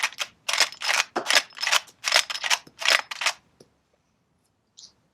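A Marlin 1895G lever-action guide gun is cycled to eject shells, giving a close run of crisp metallic clacks and rattles in a quick irregular rhythm before stopping, then one faint click.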